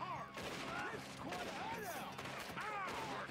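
Gunfire from the Red Dead Redemption 2 video game, a dense run of overlapping shots heard beneath steady chatter and shouting from players, loud and continuous throughout.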